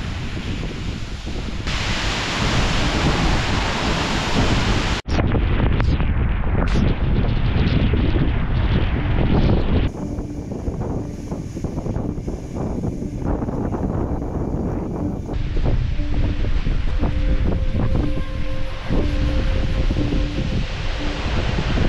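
Strong gusty wind buffets the microphone on a path beside and behind a waterfall in Iceland, a loud, steady roar with abrupt shifts in intensity and rushing water underneath.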